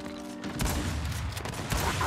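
Shotgun shots in a Gears of War 2v2 match crack out as loud blasts amid busy gunfire and crashing noise, several discharges packed into about two seconds.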